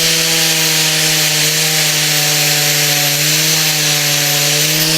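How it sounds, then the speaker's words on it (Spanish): Wood being polished with polishing paste on a motorcycle restoration, a loud constant mechanical whine with a steady rubbing hiss that stays even for the whole stretch, close and uninterrupted, no talking. "Vamos a ver si conseguimos pulir esto"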